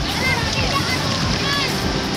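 A strong river current rushing and splashing close by, a loud, constant churning wash of water.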